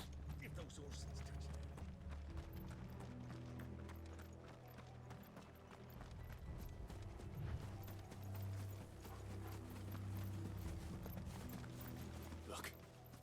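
Horse hooves clip-clop at a steady pace in Final Fantasy XVI, layered under game music and a low rumbling score throughout.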